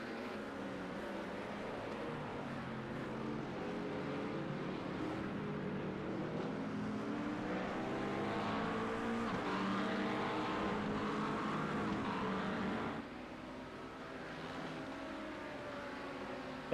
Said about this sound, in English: the Mustang just opening up that 5-litre V8.